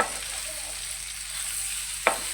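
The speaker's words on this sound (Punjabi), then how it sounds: "ਹੁਣ ਆਪਾਂ ਪਾ ਦਾਂਗੇ ਇਹਦੇ ਵਿੱਚ ਭਿੰਡੀਆਂ ਭਿੰਡੀਆਂ ਨੂੰ ਆਪਾਂ ਚੰਗੀ ਤਰ੍ਹਾਂ ਮਿਕਸ ਕਰ ਦਾਂਗੇ" Okra fries in hot oil with turmeric, giving a continuous even sizzle close by while it is stirred, with one sharp clink of a utensil against the pan near the end.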